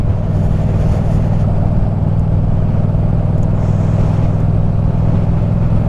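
A motorcycle ridden very slowly over a rough road, its engine droning loud and continuous with steady low rumble and wind noise, no voices.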